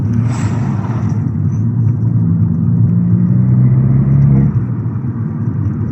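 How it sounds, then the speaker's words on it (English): An Abarth fitted with a Toyosports exhaust accelerates with a deep, loud engine rumble that climbs in pitch for a few seconds before easing back to a steady drone. "when you put your foot down, you can definitely hear a lovely amount of induction coming from the car"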